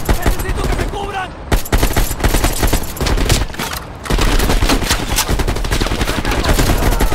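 Rapid, loud gunfire rattles through a Call of Duty Black Ops Cold War firefight, with dense automatic bursts and single shots nearly continuous, broken by brief pauses, with game voices mixed in.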